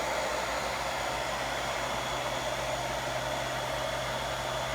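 Hair dryer blowing a constant, even whoosh of air over paint on a craft project, a steady hum without interruption.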